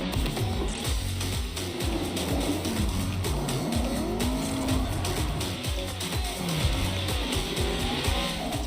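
A Formula Drift car sliding around a track, its tires squealing and wavering continuously over a roaring, revving engine, loud and sustained with no pauses.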